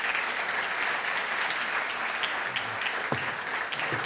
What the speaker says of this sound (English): Some applause for Ori.